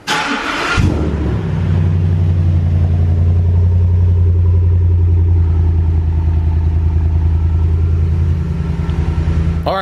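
A Gen 1 Ford Raptor truck's engine cold-starts with a brief crank and catch, then settles into a loud, steady, deep idle close by, with no talking.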